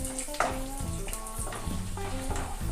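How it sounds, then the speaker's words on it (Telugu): Urad dal and chana dal fry in hot oil over a medium flame, a soft continuous sizzle with small pops and a few clinks of a utensil against the pan, no voices. "ఆయిల్ వేడైంది, మీడియం ఫ్లేమ్లో పెట్టుకోవాలి. ఇప్పుడు మినపప్పు వేసుకుందాము. తర్వాత శనగపప్పు"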